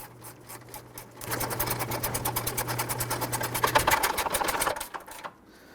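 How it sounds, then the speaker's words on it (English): Ratchet tightening radiator fan assembly bolts on a 2006-2012 Toyota RAV4 3.5L gives rapid, even clicking at close range for several seconds, with a low hum underneath. "You can use your regular ratchet or your gear wrench here. I'm going to tighten down the 4 big bolts first"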